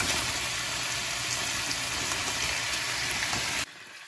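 Garlic and peppers frying in a pan, a steady close, loud sizzle with crackling that runs unbroken and then cuts off abruptly near the end.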